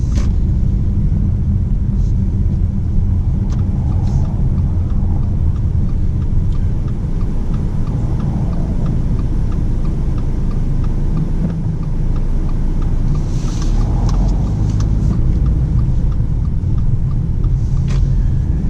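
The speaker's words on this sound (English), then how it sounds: "We'll also test its ability of takeoff from a stop." A 2019 Subaru Ascent SUV engine rumbles steadily with road noise throughout as it accelerates from a stop, a loud continuous drone with faint rising tones as it gathers speed.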